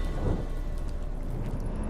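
Rain pours and low thunder rumbles in a stormy sea scene in The Witcher 3: Hearts of Stone, dense and loud with no break across a short stretch.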